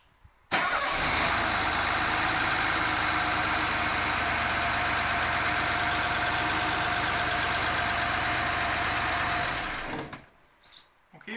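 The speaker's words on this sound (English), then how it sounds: "And now let's start the engine." Mercedes M110 six-cylinder engine cranks and fires after valve-play adjustment, then settles into a steady, loud idle on all six cylinders for about nine seconds before being shut off.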